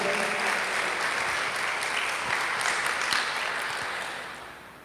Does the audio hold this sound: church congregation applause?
yes